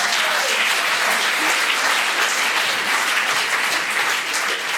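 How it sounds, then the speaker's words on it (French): Sustained applause from a theatre audience for two extra performers playing journalists, Benjamin and Caroline, at a Tom Sawyer stage show; dense, steady clapping fills the whole stretch with no voices on top. "je vous demande d'applaudir nos deux journalistes figurants"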